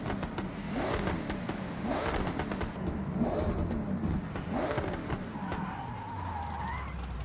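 A car engine in the Forza Horizon 6 racing video game revs repeatedly, with about four rising bursts of throttle that fall back between them, then settles to a lower steady drone, with no talk over it.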